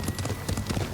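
Horse hooves clip-clop at a quick trot in the samurai action game Ghost of Tsushima, an even run of close, clear thuds over a low background.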